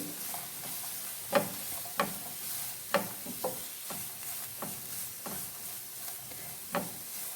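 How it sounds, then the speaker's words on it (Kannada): Small pieces of capsicum frying in a pan, a soft continuous sizzle punctuated by irregular spatula clacks and stirring scrapes, fairly quiet and close, with no voices. "ಒಂದು ಸಣ್ಣ ತುಂಡು ಕ್ಯಾಪ್ಸಿಕಮ್, ಹಾಕಿ ಫ್ರೈ ಮಾಡ್ಕೊಳ್ಳಿ."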